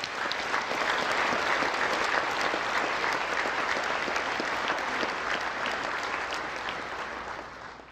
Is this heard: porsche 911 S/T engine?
no